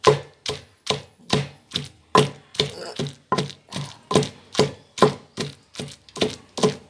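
Roti chutney with green chillies being pounded in a mortar: a steady, rhythmic series of sharp thuds, about two per second, close and loud, with no talking.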